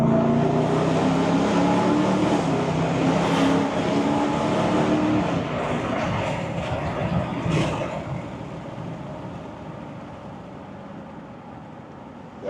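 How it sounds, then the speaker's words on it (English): Ram TRX pickup truck accelerating hard on a street test drive, a loud sustained engine roar climbing in pitch with a brief shift break, then easing and fading toward the end; no talking. "Really hard to do an 80 mile per hour pull on the street"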